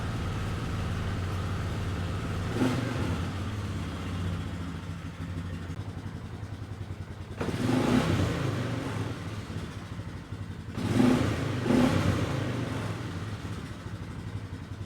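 An older car's carbureted engine idles steadily, then revs up briefly three times with quick throttle response, each blip rising and falling back to idle.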